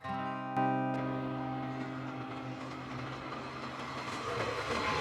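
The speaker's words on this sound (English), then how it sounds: "Here at the train station, waiting for the train to come." A train pulls into a station in Finland, starting with a steady low rumble and hum, a sharp clank near the start, then a building broadband rush of wheels on rails.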